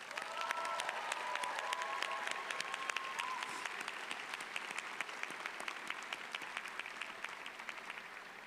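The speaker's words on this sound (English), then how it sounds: "Please join me in giving my fellow commencement honorees another round of applause." A large audience at a college commencement ceremony claps steadily for several seconds, with scattered cheers mixed in, heard from a distance and fairly quiet.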